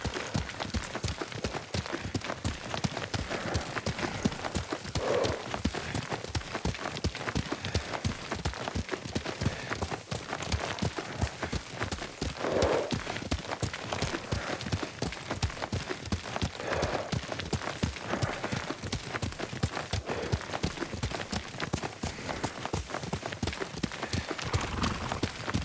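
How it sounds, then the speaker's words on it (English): Horse hoofbeats at a steady riding pace in the samurai-era video game Ghost of Tsushima, a dense rhythmic clip-clop running throughout under background game ambience, with faint voices briefly at times. "Lord Sakai taught me to ride a horse."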